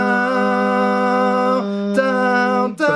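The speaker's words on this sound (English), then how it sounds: "actually pre-recorded a backing for that," Pre-recorded backing track for the bridge of a song, a sustained droning tone with steady harmonics that shifts pitch twice near the end, loud and even with no talking.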